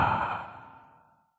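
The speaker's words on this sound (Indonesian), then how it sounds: "Tarik nafas hu." A single deep breath during a guided breathing exercise, fairly close and clear, slowly fading away over about a second.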